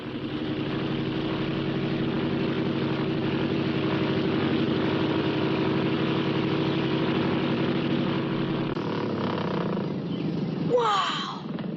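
A propeller airplane engine drones steadily and loudly close by, a thick throbbing hum that holds for several seconds before the tone shifts and a rising whine cuts in near the end.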